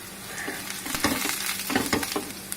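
Radish curry ingredients roasting in a pan, a bright steady sizzle broken by a run of quick scraping stirs against the pan, close and moderately loud, no talking.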